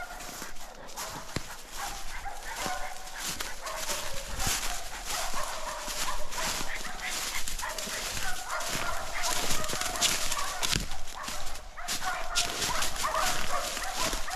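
Laika hunting dogs bark over and over at a wounded bear, some distance away, sharp yelps scattered across a noisy outdoor backdrop with occasional voices.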